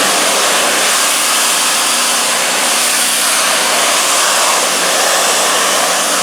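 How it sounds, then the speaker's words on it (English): A Ryobi power washer sprays water against a house surface, producing a steady, loud, broadband hiss and rush of water that continues unbroken throughout. "Definitely not as strong as a regular power washer, but it's still pretty good."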